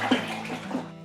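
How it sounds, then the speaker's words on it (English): Cold water being stirred into an elderflower champagne mix in a brewing bucket, a close, continuous sloshing swirl with a couple of louder splashy strokes. "we need to give it a quick stir and make sure it's all mixed up"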